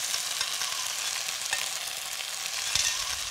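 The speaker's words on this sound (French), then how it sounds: "Dès que le wok est bien chaud, on va pouvoir rajouter les oignons, le jambon, les petits pois égouttés et on mélange le tout." Egg mixture sizzles steadily in a hot wok with onions, ham and drained peas, a loud continuous frying hiss with faint stirring scrapes and no talking.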